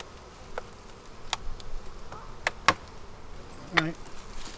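Honeybees around an open beehive with frames covered in bees, a faint, quiet buzz with a few brief louder passes of single bees flying close by.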